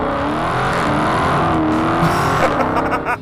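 A 2020 Dodge Charger SRT Hellcat Widebody accelerates hard with its tires losing grip, a loud, steady engine roar that climbs and rises in pitch toward the end, up close with no voices.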